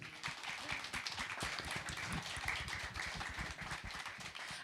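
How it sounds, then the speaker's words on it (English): An audience's round of applause at an evening music industry grant-writing masterclass, heard as quiet, steady clapping from a distance for a few seconds. "Round of applause."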